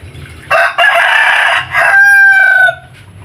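A hen recovering from illness clucks and squawks close by alongside other chickens, with loud harsh calls in two main bursts and a drawn-out crow-like cry, over quiet background clucking.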